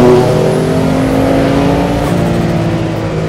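A Porsche 962 Le Mans race car engine roars loud and close from the cockpit, a sustained harmonic drone holding steady under throttle with a slight drop near the end.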